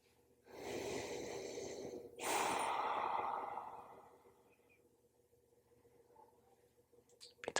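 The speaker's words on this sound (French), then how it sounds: "Et on va s'offrir 5 ou 6 respirations ici." Slow, deep yoga breathing held in a pose: two long audible breaths close to the microphone, a drawn-out inhale followed by a longer, softer exhale, then near quiet with a faint click at the end.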